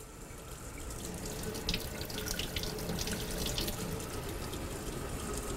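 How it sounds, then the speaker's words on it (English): Running tap water pours steadily into a sink, rinsing a plaster and pumice impression, a soft continuous splashing stream with no voices. "then we can rinse that with some water and running water."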